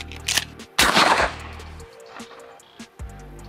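Two loud, close shots from a Benelli semi-automatic shotgun, the second a slug fired outdoors, each a sharp blast followed by a long rolling echo and quieter mechanical sounds.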